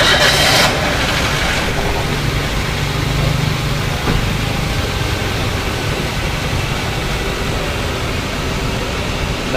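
Car engine starting right after an oil change, a brief loud burst at the start settling into a steady, fairly loud idle hum with no talking.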